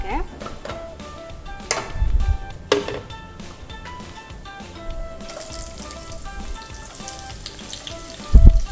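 Food fries in a pan with a moderate, steady sizzle, broken by a couple of sharp clatters; a voice talks over much of it.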